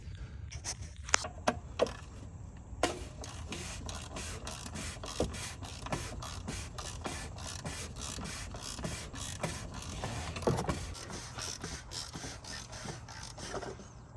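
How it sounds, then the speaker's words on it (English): A filter wrench on an extension loosens the oil filter on a 2019 Audi TT RS (stage 2), giving a run of sharp, evenly spaced mechanical clicks over a steady low background. "I'm gonna grab an extension, I'm gonna loosen it"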